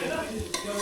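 Masala and onions frying in oil for a chakna snack, a steady close sizzle with a brief stirring scrape midway, no talk.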